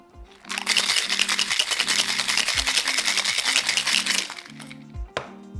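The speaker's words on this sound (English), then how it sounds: "Now shake until well chilled." A cocktail shaker filled with ice for a dirty martini, shaken hard and steadily for about four seconds in a loud, dense rattle of ice against metal, then a few last clacks, alone over quiet background music.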